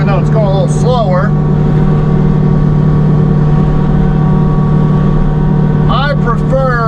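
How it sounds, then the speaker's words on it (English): A mini skid steer clears underbrush around timber in an overgrown front yard, its engine droning loud and steady throughout with a constant hum, while people speak briefly over it. "I prefer the Mini for these underbrushing jobs around timber."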